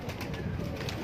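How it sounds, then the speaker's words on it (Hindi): Laal Pari breed pigeon cooing in a short, soft, continuous low burble at close range, with faint background noise and no talking. "लाल परी कबूतर है जी"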